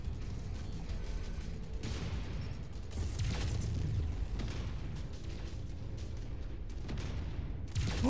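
An enemy mech fires its cannon in MechWarrior 5, heavy booming blasts and bursts rumbling over steady mechanical machine noise, several heavy hits spread across the span.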